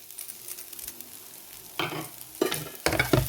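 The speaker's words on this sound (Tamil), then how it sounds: "கிளறி விடுவோம்." Boiled long green beans for sundal are stirred in a pan with turmeric and grated coconut, giving a faint scraping and soft sizzle, then a few louder stirring scrapes near the end.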